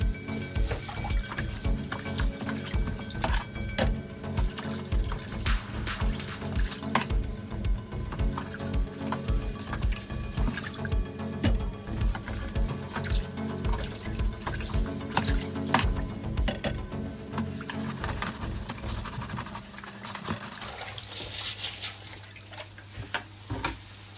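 Tap water runs and splashes steadily while oranges and carrots are rinsed and rubbed by hand, close and continuous with irregular sloshing, easing off near the end.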